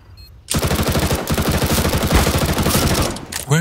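Rapid automatic MP7 gunfire in the video game CS:GO, a loud, sustained burst of evenly spaced shots that lasts about three seconds, ending in a sharp clatter.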